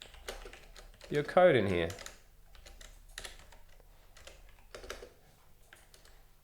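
Typing code on a computer keyboard while building a rich text editor with Slate.js, with soft, scattered keystrokes in short bursts under a man's speech.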